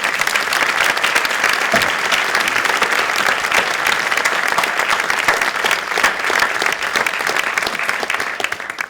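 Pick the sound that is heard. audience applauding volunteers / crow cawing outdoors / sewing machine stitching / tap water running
audience applauding volunteers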